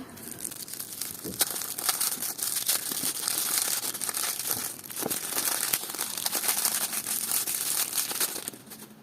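Foil on a Halloween chocolate surprise egg crinkles and tears close by, in a continuous dense rustling with sharper crackles throughout.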